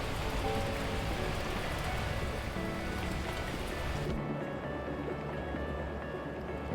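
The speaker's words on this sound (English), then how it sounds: "At that moment, the heavens opened up, unleashing torrential rain." Heavy rain in a video game pours down steadily, a dense hiss of drops that thins slightly near the end as a low rumble continues underneath.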